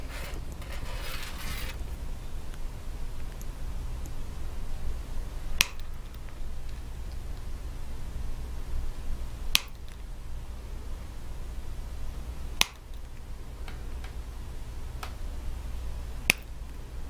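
Wire snipped with cutters while making a bar necklace with top loops: five sharp, isolated clicks spaced a few seconds apart over a low steady background hiss, with a brief rustle near the start.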